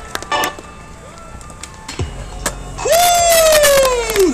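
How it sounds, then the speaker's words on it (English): A crowd cheers and shouts at an outdoor street skateboarding contest in Albuquerque as a skater lands his final trick, with loud whistles and sustained cheering building toward the end. "Everyone give him a round of applause."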